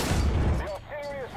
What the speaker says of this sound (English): Now they threw arty on me.